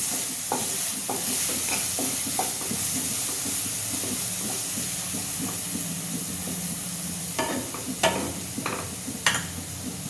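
Fried rice masala sizzles and hisses in a hot pan while a spoon stirs it, adding intermittent scrapes and a few sharper clanks toward the end, with no talk.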